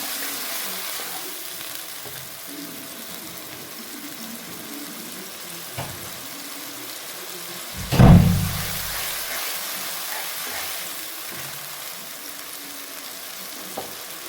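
Green chillies and onions for kadhi pakora sauté in hot oil in a pan, giving a steady, even sizzle throughout, with a single dull knock partway through.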